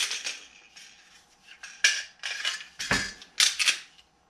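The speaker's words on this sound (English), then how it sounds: "Mossberg has a flat trigger. It's got a good break on it. It's got a fairly short reset." Mossberg MC1 pistol flat trigger being pulled and reset, giving a series of sharp, close mechanical clicks at irregular intervals with faint handling noise between them.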